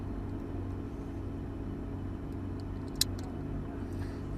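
Lamborghini Gallardo Superleggera idling in first gear with a steady low engine rumble, one brief sharp click near the end.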